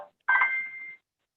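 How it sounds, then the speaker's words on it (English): A phone's short electronic tune sounds once during an online public hearing of a village electoral board, a bright sustained tone lasting under a second, fairly close and alone after a brief snippet of other sound. "we keep getting your phone giving us a nice little tune"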